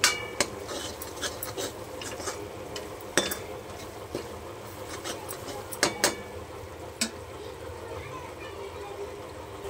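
A spoon scrapes and clinks against a pan while pav bhaji gravy with red chilli and pav bhaji masala is stirred, with sharp metallic taps over a soft sizzle and a voice talking throughout.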